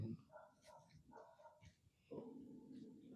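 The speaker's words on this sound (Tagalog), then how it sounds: "May aso?" A dog at an abandoned resort in Cavite gives three or four barks and yelps with short pauses between them, moderately close, while people talk over the sounds.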